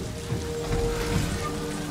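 Rain falls steadily in the video game Ghost of Tsushima, a soft continuous patter of drops on surfaces at fairly low volume with no talking.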